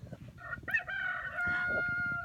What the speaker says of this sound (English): Is that a rooster?